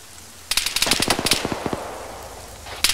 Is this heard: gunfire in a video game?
yes